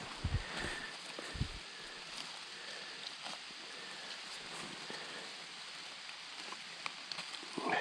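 Light drizzle in a Carpathian forest, a faint, even hiss of fine rain with a few soft rustles and steps close by early on.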